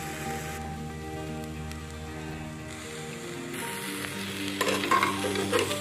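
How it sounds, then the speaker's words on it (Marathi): Rice with peas and pulao masala stir-fries in oil with a continuous close sizzle, like rain, and stirring that grows louder toward the end. No one speaks. "मसाला देखील आपण चांगला एकजून हलवून घेऊया, परतून घेऊया।"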